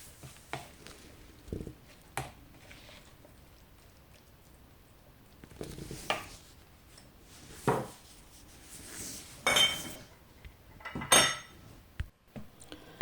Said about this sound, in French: Alors, je mélange, mais surtout mélanger bien tous les aliments